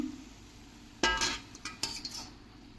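A metal lid comes off a pot of cooking dill greens (shepu bhaji) with a sharp clank, then a few lighter clinks and scrapes of metal against the pot follow close by.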